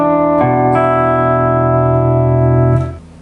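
Overdriven electric guitar plays a rockabilly lesson phrase from a song, a couple of quick picked notes leading into a long sustained chord that rings loud and alone before cutting off.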